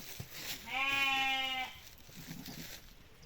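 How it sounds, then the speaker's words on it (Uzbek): A single close sheep bleat, about one second long and clear and tonal, rises from a farm pen where rams are being fed, with quiet background noise before and after. "O'zi bilar ekan qo'ylar qachon yemishini"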